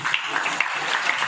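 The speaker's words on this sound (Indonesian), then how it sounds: "Tepuk tangan untuk ayah." Audience at an Islamic boarding school gathering claps continuously in a short, even burst of applause.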